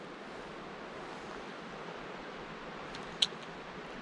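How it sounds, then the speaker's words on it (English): A moving river in the woods gives off a faint, steady wash of flowing water from some distance away, with one brief sharp click near the end and no voices. "That's the moving river there."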